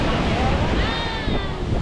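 Sea waves washing sand up a beach near Sydney, a close rushing wash of surf heavily buffeted by wind noise on the microphone, with faint distant voices.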